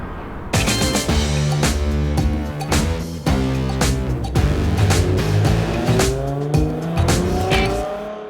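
1997 Mazda Miata track car driven hard, a loud close engine snarling through rising revs and sharp gear changes, with brief tire squeal along the way.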